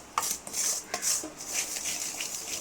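Sugar being stirred in a pan over a medium flame for coco mittai, with a repeated soft scraping and swishing of the spoon against the pan, close and fairly quiet, with no talking.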